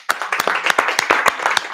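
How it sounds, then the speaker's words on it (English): A small group claps for a few seconds at an indoor meeting, sharp individual claps close by and loud, with a faint voice underneath. "Just want to give him a round of applause."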